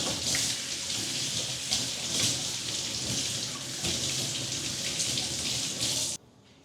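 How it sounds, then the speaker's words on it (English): An onion rinsed under a running kitchen tap, a steady splashing rush of water that stops abruptly near the end, close and alone with no talk. "So let's wash the onion."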